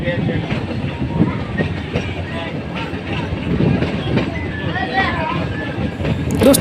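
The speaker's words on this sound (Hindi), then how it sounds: "तो कैसे देखो ये ट्रेन धीरे धीरे अपनी रफ्तार एक साथ पकड़ती है।" An Indian passenger train on the Marwar Junction–Goram Ghat line slowly gathering speed after leaving a station, heard from on board: a steady, close rumble with rhythmic clickety-clack of wheels over rail joints throughout.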